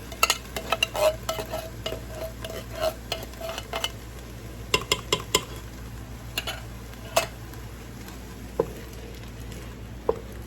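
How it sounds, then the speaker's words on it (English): Steady frying sizzle of onions and tomatoes in a hot pot, with scattered sharp ticks and pops, close by, as if being stirred; no voices. "You can hear it sizzling."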